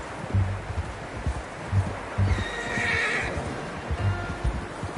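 A horse in Red Dead Redemption 2 gives a loud, close whinny, with hooves clip-clopping and leaves rustling in the wind around it.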